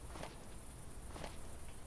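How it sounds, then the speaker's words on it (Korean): Footsteps in the video game Hungry Lamu: two soft, distant steps under a steady loud hiss of background ambience, with no voices. "발소리 났어"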